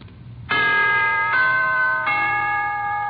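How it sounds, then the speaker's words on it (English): NBC network chimes played as a radio signal: three clear, sustained bell-like tones struck one after another, each ringing on and overlapping, loud and alone. "here is a holiday wish from the NBC Chimes."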